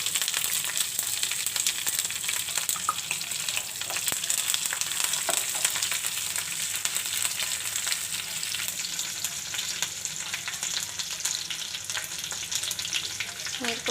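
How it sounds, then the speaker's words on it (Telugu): Mustard and fenugreek seeds crackle and sizzle steadily in hot oil as a tempering for drumstick rasam, a continuous close frying hiss with faint pops throughout, no talking. "ఆవాలు, మెంతులు బాగా చక్కగా వేయించుకోవాలండి."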